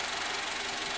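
A 2002 Honda Civic LX with a D17A1 engine making an abnormal mechanical noise, heard as a loud, steady, fast rhythmic ticking and knocking over a dense engine drone, with no talk.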